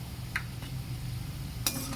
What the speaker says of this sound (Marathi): हे आता आपण मस्त हलवून घेतो.